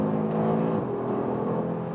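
Audi RS3 five-cylinder engine accelerating hard on a racetrack near Athens, Greece, a close, dense throaty drone with a quick gear-shift dip partway through before the note climbs again.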